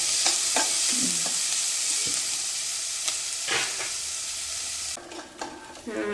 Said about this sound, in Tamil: வெங்காயம் நல்லா கோல்டன் ப்ரௌன் ஆயிடுச்சு பாருங்கள்